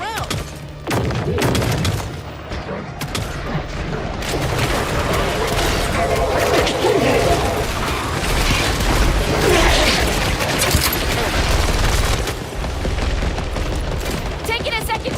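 Killing Floor 3 gunplay delivers a dense, continuous barrage of gunshots, booming explosions and heavy thuds, loud and layered throughout, with a voice talking over the combat at times.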